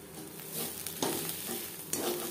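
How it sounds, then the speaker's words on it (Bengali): Mashed arum leaf cooks on a low gas flame, stirred in the pan until dry: a steady soft sizzle with a couple of sharp scrapes of the spoon, close and fairly quiet, no voices. "লো ফ্লেমে আরও 3-4 মিনিট রান্না করব, একেবারে ড্রাই হয়ে আসা পর্যন্ত।"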